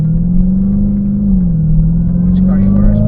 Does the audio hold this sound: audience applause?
no